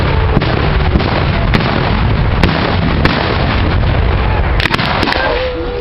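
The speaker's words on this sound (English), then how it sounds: "cannons open up as counter-battery fire" Cannon bombardment at a Civil War reenactment of Gettysburg, heard as a dense, continuous roar of distant booms with sharper reports standing out at intervals and a cluster of close blasts near the end.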